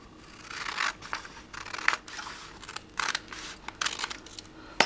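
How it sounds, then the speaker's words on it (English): Scissors snip through a sheet of paper being trimmed to size for a handmade hardcover journal, a series of crisp, close cuts in irregular bursts with brief pauses between them, no voices. "what I'll do is cut this paper down to size first."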